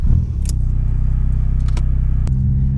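A small Fiat Cinquecento 1.1 Sporting hatchback starts up and settles into a steady, loud idle close by, its low engine drone continuous with a few faint clicks and rattles on top and no voices.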